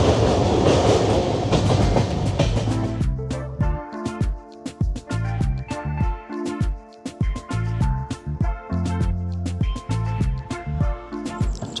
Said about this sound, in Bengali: জুবিলি ব্রিজ ক্রস করছি হুগলি নদীর ওপর